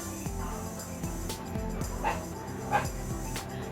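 Dogs bark and yip indoors at moderate distance, with a few sharp, scattered barks over a steady background hum.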